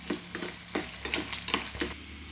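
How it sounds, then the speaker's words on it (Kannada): Chopped ginger and cumin seeds frying in oil for a pongal tempering, a close steady sizzle broken by a rhythmic series of stirring scrapes, with no talking. "ಎಲ್ಲ ಸಹ ಎಣ್ಣೆಯಲ್ಲಿ ಬೇಯ್ತಾ ಇದೆ."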